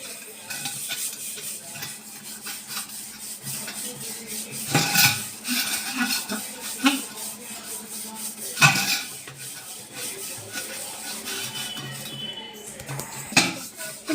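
Copper and brass pots being scrubbed clean, with steady rubbing and scraping of metal vessels, a few louder clanks standing out along the way; no talking.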